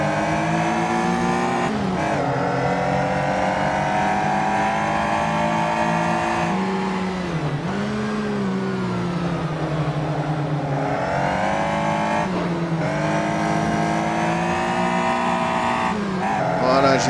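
A Caterham race car on a lap at Pôle Mécanique Alès, with its engine revving hard right up close, pitch climbing through the gears and dipping on downshifts, steady and loud throughout with a voice talking over it now and then.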